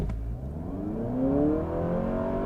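A 2023 Honda Accord Touring hybrid sedan launches hard from a brake-torque start, its engine note climbing and then holding high, steady revs. The sound is close, loud and continuous, with no talking.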